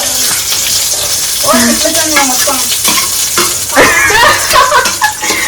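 Maggi noodles tossed into a hot frying pan for an omelette Maggi, giving a loud continuous sizzle under the clatter of stirring, while voices chatter and laugh in the background.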